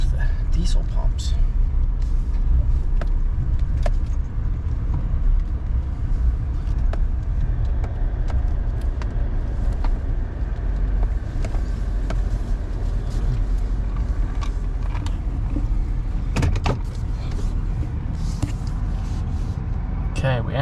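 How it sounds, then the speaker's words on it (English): Low diesel engine rumble of a Chevy 3500HD pickup with an L5P Duramax rolling slowly up to diesel pumps, steady and close, with occasional clicks and knocks on top. "This truck will get a roll up to the diesel pumps."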